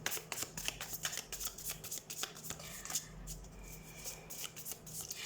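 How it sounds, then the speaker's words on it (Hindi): Tarot cards shuffled by hand in a steady run of dense riffling bursts, close and fairly loud, with no one speaking. "so let's shuffle the cards and let's see"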